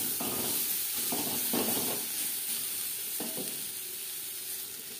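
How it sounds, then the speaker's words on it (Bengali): Drumsticks (sajne danta) frying in a pan of oil, giving a steady soft sizzle with a few brief louder bursts of crackle as the pieces are stirred, no voices. "সজনে ডাঁটা খুব বেশি ভাজবার প্রয়োজন নেই।"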